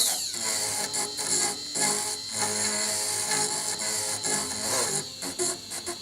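A 1.5 mm round burr in a rotary tool cuts into the metal lip of a ring's stone setting, a steady high whine with small pitch shifts and brief dips as the burr touches and lifts, close and continuous.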